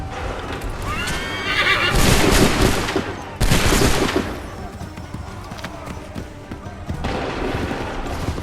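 Colonial-era musket volleys crack out in Assassin's Creed III as loud, sharp bursts around two and four seconds, mixed with neighing horses, hoofbeats and shouting soldiers.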